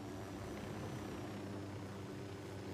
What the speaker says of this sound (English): Why is the helicopter moving?